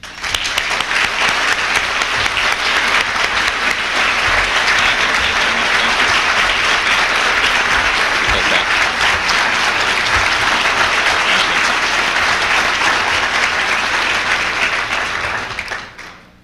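A conference audience applauds to welcome Congressman Jim Cooper of Tennessee, with dense, sustained clapping that holds for about fifteen seconds before fading out.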